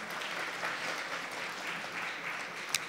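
Audience applause fills a Czech awards gala hall for a silver-place insurance product, steady dense clapping throughout with a brief sharp clap near the end.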